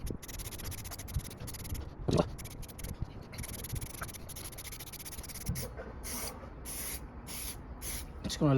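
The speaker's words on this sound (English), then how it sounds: "apply the spray." Short hissing bursts of aerosol air filter oil sprayed onto a Kawasaki ZX-9R motorcycle air filter, repeated in quick irregular spurts close by, with faint rubbing and handling noises between them.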